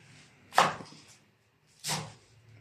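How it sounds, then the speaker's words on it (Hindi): Two sharp, loud chops of a big knife cutting through fenugreek greens on a board, spaced about a second apart with a quiet gap between them. "सर जी साग काट रहे हैं"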